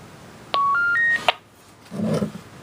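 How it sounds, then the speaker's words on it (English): Two-tone paging beeps from a UVF1 radio: a short run of rising electronic tones, followed by a brief crackle and a burst of noisy static. "You heard the little whistle there, or the beeps?"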